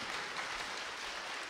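A brief burst of audience applause at a children's reading festival, a dense, steady wash of clapping that stays even throughout.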